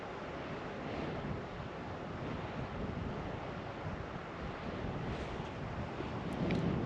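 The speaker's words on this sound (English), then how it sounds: "I can hear the river" A river rushes through the Taos Gorge as a steady broadband roar heard from a high point, mixed with wind buffeting the microphone.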